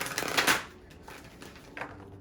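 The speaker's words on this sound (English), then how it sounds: "I'm going to go ahead and shuffle this again" A deck of tarot cards is riffled and shuffled up close, a quick rustling flurry at the start followed by two fainter, shorter card shuffles, quiet and unaccompanied.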